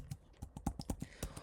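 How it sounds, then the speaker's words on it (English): Password keystrokes on a Mac keyboard, about ten quick close clicks in an uneven rhythm, alone and fairly quiet. "I'm going to type my Mac password."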